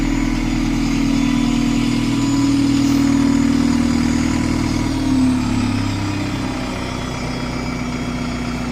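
Class 37 diesel locomotive 37133 idling nearby, a steady loud low-pitched engine drone with a throbbing pulse that rises slightly in the middle and then settles.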